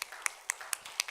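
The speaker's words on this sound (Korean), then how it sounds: "우리 서로에게 격려의 박수, 하나님께 영광의 박수 올리겠습니다." A few people in a church lecture clap together in encouragement, five sharp, evenly spaced claps that ring out clearly over a quiet room.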